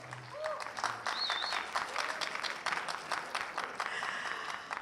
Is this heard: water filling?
no